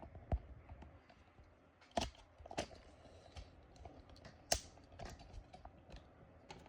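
Paper is fed through the rollers of a 1940s-60s Smith-Corona portable typewriter, giving a run of quiet close mechanical clicks and a few sharper knocks at irregular intervals, with no talk.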